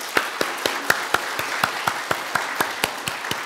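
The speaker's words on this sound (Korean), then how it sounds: "우리 같이 박수할까요?" Rhythmic applause from a church congregation after a baptism, a steady beat of sharp claps from a small group, moderately loud in a room, with no talking.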